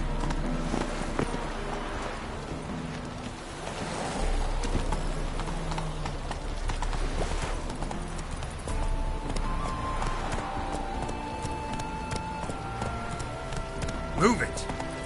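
Roach the horse clip-clops along in The Witcher 3, with steady hoofbeats over a continuous bed of game music and ambience, a voice speaking briefly.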